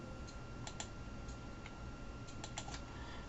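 Faint, sparse clicks of a computer keyboard as a folder name is typed, scattered irregular taps over a steady background hiss.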